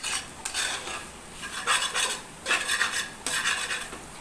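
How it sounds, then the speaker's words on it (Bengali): A spatula stirs Maggi noodles in a pan in short scraping bursts. The strokes come in a loose rhythm at close range, with a faint sizzle beneath and no voices. "আমি খুন্তি দিয়ে নেড়ে চেড়ে দেখছি যে একটার সাথে আরেকটা যেন লেগে না যায়।"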